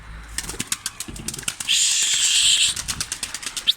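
Pigeons burst into flight with rapid, rhythmic wing flaps close by, a loud whirring rush in the middle, then more scattered flapping as they go.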